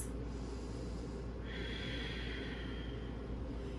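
Steady breathing through a yoga core hold, a sustained airy exhale with a brighter hiss midway, close and alone with no talk.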